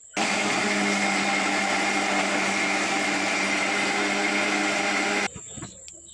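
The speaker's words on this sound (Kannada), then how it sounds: "ಇವಾಗ ನುಣ್ಣಗೆ ರುಬ್ಬಿಕೊಳ್ಳುವ ಸ್ವಲ್ಪ ನೀರು ಹಾಕ್ಕೊಂಡು ನುಣ್ಣಗೆ ರುಬ್ಬಿಕೊಳ್ಳಬೇಕು" A mixer grinder whirs loudly and steadily for about five seconds, grinding vegetables with water for sambar, then cuts off abruptly, leaving brief clattering as it winds down.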